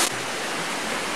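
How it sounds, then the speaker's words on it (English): Waterfall at Plitvice park in the Balkans, with clear water: a loud, steady broadband rush of falling water fills the whole moment without pause or talking. "Wow, look at this waterfall."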